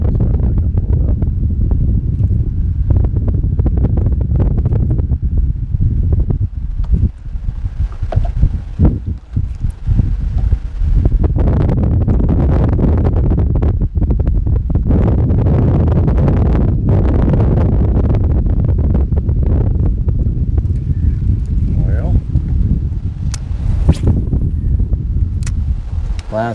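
Strong gusty wind buffets the microphone throughout a lakeside jig-fishing outing, a loud continuous low rumble with repeated harder gusts and faint rustling, no voices.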